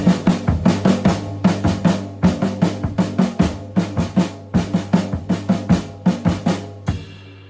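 A drum kit plays triplets grouped in fours with a space between groups: quick bursts of sharp strikes over a steady low tone, repeating in an even cycle, close and loud, ending with a ringing crash.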